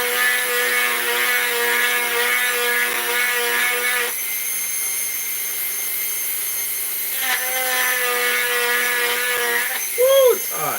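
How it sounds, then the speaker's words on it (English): Silver dollar coin ring being sanded on the inside with a power tool, a steady high whine that drops in pitch midway and then rises again, ending in a brief louder burst. "We're going to sand the inside."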